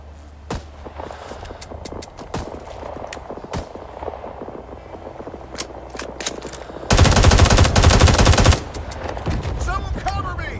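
Gunfire in the video game Rising Storm: scattered single shots crack through the first seven seconds, then a dense, loud burst of continuous automatic fire for about two seconds, followed by more shots and battlefield noise.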